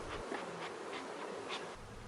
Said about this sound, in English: the bees pour down through the funnel and into the container